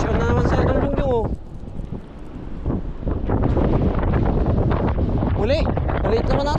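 Strong wind buffets the microphone at sea during Typhoon Pepito, with a steady roar of gusts and waves around a fishing boat; people talk and shout over the noise throughout.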